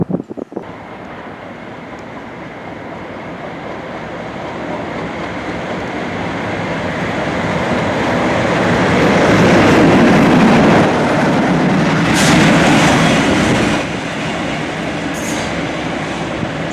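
A Class 37 diesel locomotive passes through a London station, a loud sustained rumble of engine and wheels swelling to a peak midway, then easing off with brief high squeals near the end; no voices.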